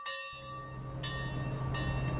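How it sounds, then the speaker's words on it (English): A mine train ride in a theme park video game, with bell-like chimes striking three times over a rising rumble of rolling rail cars, no voices. "It's the mine train, which is one of the first things that I did."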